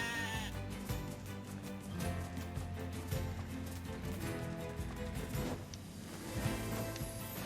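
Sheep bleat repeatedly in the video game Nier Replicant, with clear, wavering calls over busy game music and effects at moderate volume.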